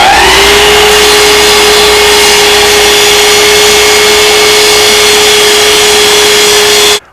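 A power saw makes a test cut in walnut, a loud, close, steady whine with a sustained tone that runs for about seven seconds before cutting off abruptly, with no talking.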